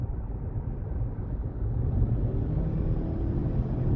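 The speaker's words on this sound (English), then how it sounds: "there is slight bit of wind noise at high speeds." Inside a 2019 Lexus ES300 Hybrid at high speed, a steady muffled wind rush and low road rumble carry on without a break, growing slightly louder partway through, with no speech.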